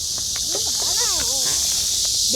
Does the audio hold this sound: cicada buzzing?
yes